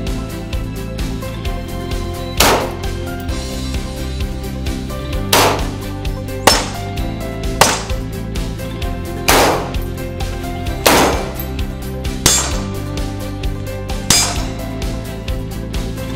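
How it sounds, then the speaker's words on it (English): Guns from handguns to rifles fired at close range into ballistic armor tiles, about eight sharp loud reports spaced a second or two apart, each a hard crack with a metallic clang over a steady low rumble, no talking. "Let's look at how they protect against a full array of weapons, from handguns to rifles,"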